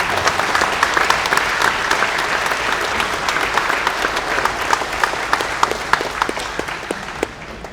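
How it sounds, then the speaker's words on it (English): A crowd at a fishing event for kids at Yatesville Lake applauds an award winner, sustained dense clapping with sharp individual claps standing out, steady and fairly loud throughout. "Round of applause for being the 2024"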